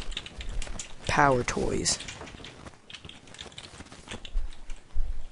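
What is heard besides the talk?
typing on a computer keyboard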